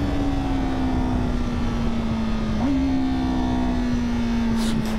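A 2024 Honda Fireblade motorcycle engine runs steadily, its loud idle drone holding one even pitch with a brief rev blip midway, close to the microphone and alone.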